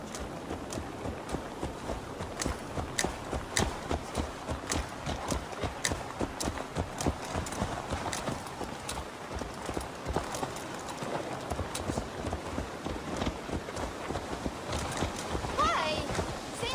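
Horse hooves clip-clop steadily at a walking pace in the Assassin's Creed Valhalla video game, a continuous rhythmic clatter that stays close and fairly loud, with in-game voices talking over it now and then.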